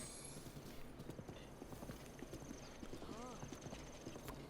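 A horse gallops in The Legend of Zelda: Breath of the Wild with a quiet, steady rhythmic clip-clop of hooves throughout, and a voice talks over it.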